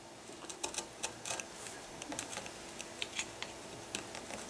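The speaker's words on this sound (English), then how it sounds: "If you've got a real sharp chisel, just pushing down on this will give you a clean cut along that cross grain or end grain" A sharp chisel pressed down through the end grain of a wooden patchbox, giving a run of crisp, close, irregular ticking snaps and scrapes over a faint steady background, with no talking.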